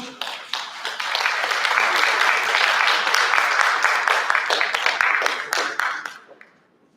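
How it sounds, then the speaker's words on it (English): A round of applause at a Cuban tourism product launch event, dense clapping swelling quickly and holding steady before tapering off to a few last claps near the end. "Give him a round of applause."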